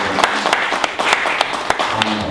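Audience applause at a live entertainment panel debate event, a steady wash of clapping with sharper individual claps standing out, fairly loud and continuous with no talk.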